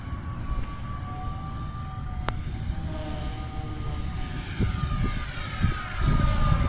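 An Eflite F-14 40mm electric ducted-fan RC jet flies past at three-quarter throttle with wings fully swept, giving a steady broadband whoosh and thin high whine that holds fairly constant, swelling slightly near the end.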